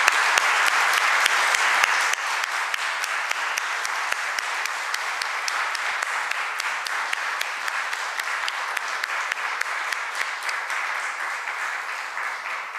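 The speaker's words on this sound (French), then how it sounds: "Je pense que ça mérite une main d'applaudissement." Graduation ceremony audience applauding 175 continuing-education graduates, loud sustained clapping that holds steady throughout with a slight peak at the start.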